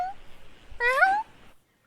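A person imitates a cat with a single drawn-out, rising and falling meow in a nasal voice, close and fairly loud, after a brief low murmur.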